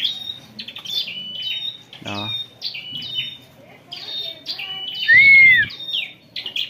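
A white-rumped shama, a caged songbird, sings repeated high whistles and chirps close by, with one rich drawn-out whistle near the end, while someone speaks briefly in between.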